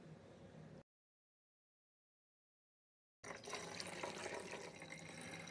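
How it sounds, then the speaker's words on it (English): Distilled water being poured into the coolant tank of an XTOOL P2 55W CO2 laser, a steady close trickle and splash after a short silent gap, running continuously to the end with no talk. "and then follow that with the distilled water"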